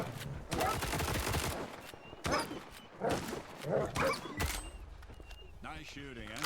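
Bursts of rapid gunfire in the video game S.T.A.L.K.E.R. 2, loud and close, separated by short gaps, with voices speaking between and over the shots.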